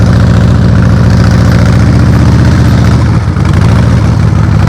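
A motorcycle engine runs at steady low throttle during slow-speed riding practice, a loud, close, continuous low rumble that holds even with only a brief dip and no talk.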